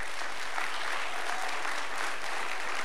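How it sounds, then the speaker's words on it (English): Church congregation applauding throughout, a dense, steady wash of many hands clapping with no talk over it. "You should clap your hands right there."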